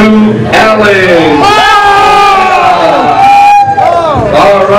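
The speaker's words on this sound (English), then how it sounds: "let's give a round of applause to Ellen" Crowd at a tattoo expo awards moment roars with loud cheering, whoops and yells over babble, a sustained burst close to the listener.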